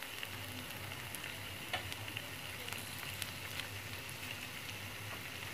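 A pan sizzles steadily after tomato is added for ampalaya con carne, a soft, even frying hiss with occasional small pops and stirring ticks, fairly quiet and close.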